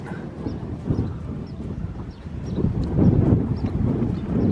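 Wind gusts across an old mining ghost town near Nelson, Nevada, making a low, rumbling buffet that rises and falls and swells stronger toward the end, with no voices.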